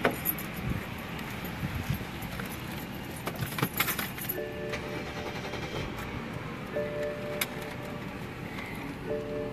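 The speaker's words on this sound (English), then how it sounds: "Just jumping in the car to charge the phone." Keys jangle close by as someone climbs into a car, a steady rattle of metal under a low wash of outdoor traffic noise, with no talking.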